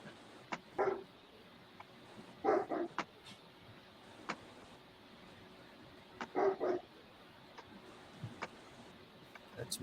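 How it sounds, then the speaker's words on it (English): Dogs bark in short clusters of two or three yaps, spaced apart and moderately distant, over a quiet background with scattered clicks and knocks. "That's Misfits dogs barking"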